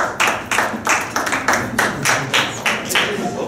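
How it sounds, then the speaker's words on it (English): Audience members at a math talk clap in a quick series of distinct bursts, roughly a dozen sharp claps in an uneven rhythm, fairly close and clear with no talking over them. "I heard several of you clapping"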